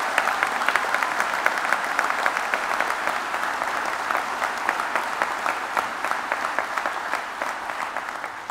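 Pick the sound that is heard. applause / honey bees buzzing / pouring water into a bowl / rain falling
applause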